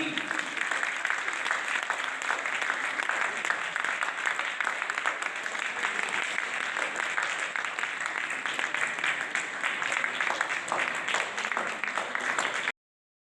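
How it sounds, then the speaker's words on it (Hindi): An audience at a senior-category quiz competition grand final applauds continuously, a dense, steady wash of clapping that holds at even loudness before cutting off abruptly. "तालियां रुकनी नहीं चाहिए"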